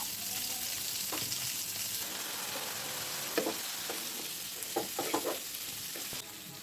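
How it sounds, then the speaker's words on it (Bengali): Rohu fish frying in hot oil in a pan on a home stove gives a steady, soft hiss, broken by a few sharp pops and clicks of utensils near the end. "এই চুলাতে মাছ ভাজতে দিয়েছিলাম মাছটা ভাজা হয়ে গেছে"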